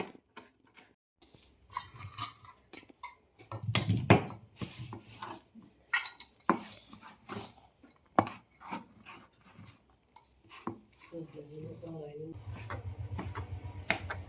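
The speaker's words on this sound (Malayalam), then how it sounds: "തക്കാളി ചെറിയ പീസാക്കി അരിയാണ്" Tomato being chopped into small pieces with a knife, scattered cutting taps heard close up, mixed with steady talking and some kitchen handling noise, ending with a low continuous rumble.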